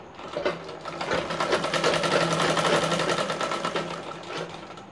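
A sewing machine runs steadily while repeating a seam on a katori blouse, its rapid needle clatter rising quickly, holding an even, close rhythm, then easing slightly toward the end.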